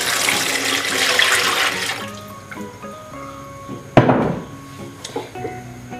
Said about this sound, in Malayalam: ഞാനിപ്പോൾ ഈ സോപ്പിലേക്ക് നമ്മളെടുത്ത് വെച്ച വെള്ളം ഞാൻ ഒഴിക്കുകയാണ്